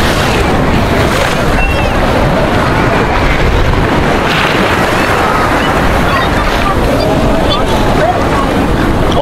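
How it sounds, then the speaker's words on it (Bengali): Big sea waves roll in at Kolatoli beach, Cox's Bazar, a loud, continuous broadband wash of surf blended with heavy wind buffeting the microphone, with no clear gaps between swells. "অনেক বড় বড় ঢেউ কিন্তু আসতেছে"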